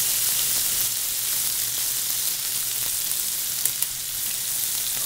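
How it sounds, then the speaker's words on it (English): Pancetta, artichokes and pistachios being flipped and fried in a sauté pan: a steady close sizzle with a couple of small clicks from the pan, and no talking. "I just love flipping in a saute pan."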